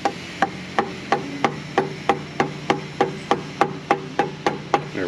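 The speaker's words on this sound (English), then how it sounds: "we'll beat it on with a hammer" A hammer beats a crank pulley onto a Nissan Frontier 3.3 4x4 engine, striking around fifteen times in a quick, steady rhythm of sharp, close metallic whacks.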